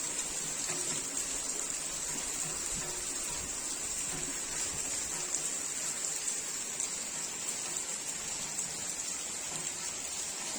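Heavy rain pours down on a village in a steady, dense hiss of drops striking surfaces, continuous and even throughout with no clear voices.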